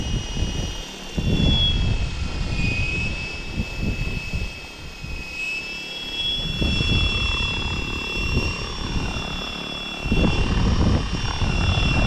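An RC helicopter's electric motor spins up: a high, steady whine with whirring tones holds throughout, rising slightly in pitch, with faint rustling and handling noise underneath.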